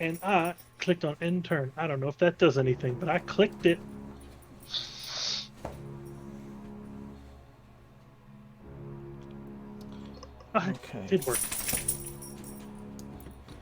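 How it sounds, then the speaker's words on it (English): A dog's tags jangle like keys as she wakes and shakes, bright metallic rattling in two bursts between stretches of close talk, plus a faint whimper. "Oh, I think the dog's awake."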